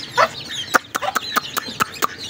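Colourful chicks and hens cluck and peep close by in a short series of sharp, evenly spaced calls with softer chatter between them.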